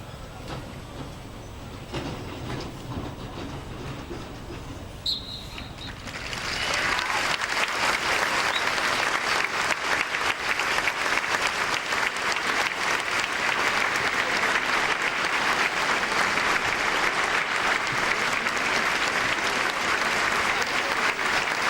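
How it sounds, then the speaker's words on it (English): A stadium crowd before a Sligo Rovers v Derry City football match breaks into sustained applause for a minute's tribute, starting quietly after a few seconds of low murmur, then holding steady, dense and loud to the end. "we will have a moment of applause for the late Eugene Gillespie"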